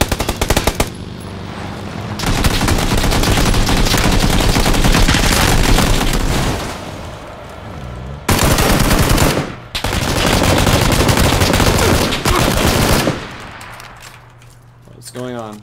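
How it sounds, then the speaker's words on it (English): Loud bursts of rapid automatic gunfire, rattling in long sustained volleys with brief pauses between them, close and intense, with game-like sound effects. "Hear gunfire."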